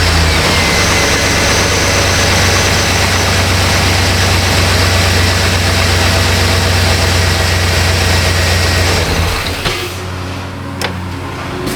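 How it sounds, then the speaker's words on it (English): A Chevy Silverado truck engine idles close by with a constant low rumble that cuts off abruptly near the end, leaving a few faint clicks. "I'm going to take and start the truck back up"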